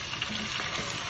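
Turmeric-spiced crab frying in a pan while being stirred, giving a close, steady sizzle with soft scraping movements throughout and no talking.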